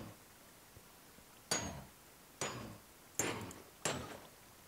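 Four evenly spaced hammer strikes in a Minecraft modpack game, each a sharp metallic clank with a short ringing decay, heard alone at moderate volume.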